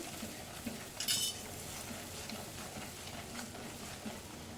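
A spoon stirs coriander-cumin powder, red chili and garam masala in a pan, soft scraping and a few faint clinks, with a brief brighter clatter over a low steady background hiss.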